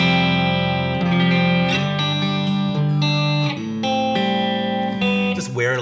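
A heavily overdriven electric guitar through a Yamaha amp, bass lowered, plays sustained, gritty chords and notes, loud and continuous with a slight bend at the end.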